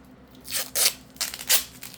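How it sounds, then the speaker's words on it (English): Tape peeled in several quick strips from a wooden pumpkin-detail basket, each a short crackling rip with brief pauses between, close and moderately loud. "I'm going to take the tape off of this."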